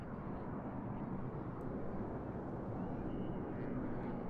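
The Red Arrows synchro pair jets roar as a broad, distant, steady rush of engine noise at an airshow, fairly faint and continuous without a clear pass.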